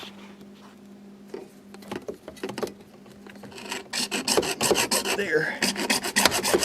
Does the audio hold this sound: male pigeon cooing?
no